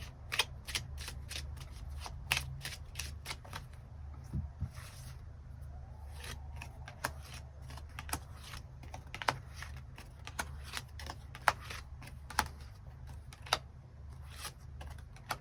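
Tarot cards are shuffled and drawn close by in a quiet room, with many sharp card flicks and riffles coming in irregular bursts over a low steady background hum.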